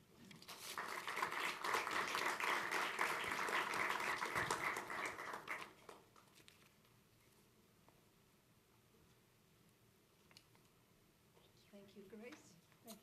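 Audience applause welcoming the lecturer at an evening lecture and exhibition opening, a dense burst of clapping from a crowded hall that holds steady for several seconds, then fades to quiet room noise with faint rustling.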